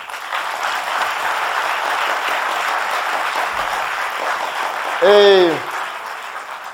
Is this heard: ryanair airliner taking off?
no